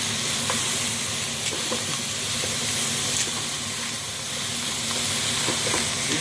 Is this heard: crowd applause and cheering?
no